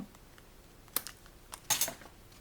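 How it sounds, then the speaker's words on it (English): Scissors snip away excess material from a handmade 3D honeycomb bee skeleton tag, giving two or three short, crisp clicks close by against a quiet background. "I'm just going to get the scissors and I'm going to trim that off"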